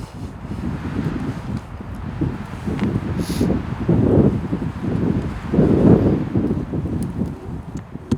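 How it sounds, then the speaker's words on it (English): Gusty wind buffeting the microphone during an elk hunt, low rumbling surges that swell and fade repeatedly, loud and close, with faint rustling underneath. "It's so windy."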